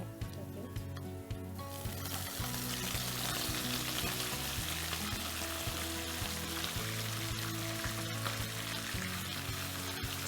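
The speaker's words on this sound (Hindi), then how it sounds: "अब हम इसके अंदर चिकन डाल देंगे" Chicken pieces sizzling and frying in a pan with browned garlic paste, a steady loud crackle throughout while being stirred, with soft background music and no talk.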